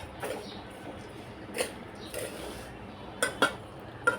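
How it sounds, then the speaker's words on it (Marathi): Spoon scraping and clinking in a bowl while mixing nachni flour with jaggery, almonds, cashews and raisins, soft scattered scrapes with a few sharper taps near the end, quiet and close. "मिक्स करून घेऊया."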